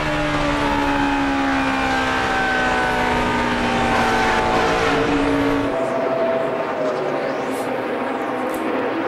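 NASCAR race cars at full throttle at Homestead-Miami, a loud sustained engine roar with overlapping high whining tones and pitch glides as cars pass, continuous throughout.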